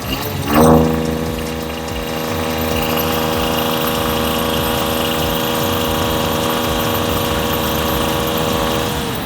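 A motorbike engine running on E20 flex fuel idles steadily and close by, a continuous mechanical hum with a brief louder rev near the start, no voices.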